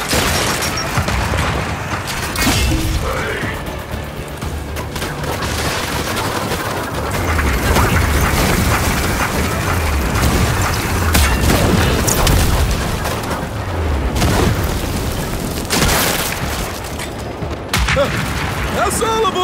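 Grenade blasts and booming explosions go off amid gunfire and mechanical clatter in the Gears 5 story campaign, loud and dense throughout, with character voices shouting over the action.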